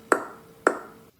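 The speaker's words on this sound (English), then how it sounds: "clap twice to turn on the lights" Two sharp claps, about half a second apart, ring out with a bright, slightly echoing tail after each one and no voices around them.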